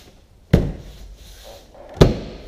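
Interior door panel on a Nissan S14 snapping into place, two sharp plastic clunks about a second and a half apart, close and fairly loud over quiet room noise.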